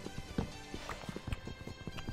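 Horse hooves clip-clop in a Minecraft game, with irregular soft thuds at a steady walking pace sitting close under a busy background hum.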